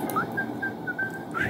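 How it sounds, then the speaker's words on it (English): A person whistles a short wavering tune of several sustained notes, close and clear against a steady background hum, with no speech. "Anyways, a whistle."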